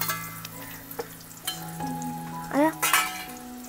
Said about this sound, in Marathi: गरम तेलामध्ये आता मस्तपैकी 2 बारीक चिरलेले कांदे टाकून घेतले